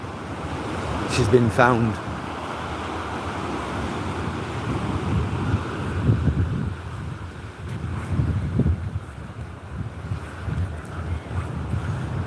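Sea waves and gusting wind along the seafront promenade at Withernsea, a steady broadband roar with buffeting wind on the microphone, while people talk nearby over it.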